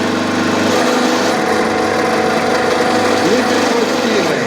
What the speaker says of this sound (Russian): запускаем двигатель.